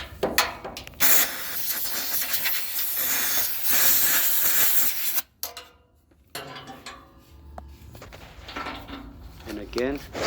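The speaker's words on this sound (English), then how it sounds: "Spray with some air." Compressed air sprays in a long, loud hissing burst to clean around a NOx outlet sensor on a Freightliner Cascadia truck, followed by a pause and then shorter puffs with some handling noise.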